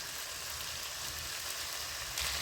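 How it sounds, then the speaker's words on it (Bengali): Peas sautéing in a pan for vegetarian ghugni, making a soft, even sizzle that hisses steadily throughout at a moderate, close level, with no speech. "মটরটা দিয়ে দিয়েছি এখানে, মটরটা কষানো হতে থাক"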